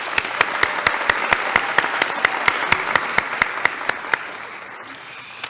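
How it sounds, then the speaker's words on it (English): An audience applauds at the 36th Annual Prince William Chamber Valor Awards ceremony, a dense wash of clapping with one sharp, evenly timed clapper standing out, fading near the end. "Let's please give them a round of applause."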